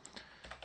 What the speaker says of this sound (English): Now you shall go ahead and type in std colon colon